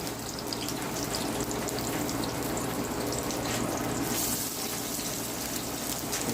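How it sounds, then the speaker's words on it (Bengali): Onions frying in hot oil in a home kitchen make a steady, close sizzle with a watery, crackling hiss that runs without a break and gets slightly brighter partway through. "এটার মধ্যে আমরা পেঁয়াজ ভাজি করছি"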